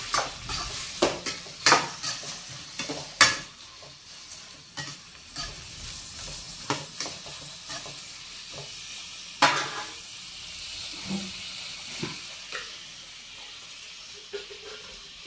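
Mustard seeds crackle and pop in hot oil in a pan, with irregular sharp snaps over a steady sizzle and occasional clinks of a stirring utensil, close and fairly loud.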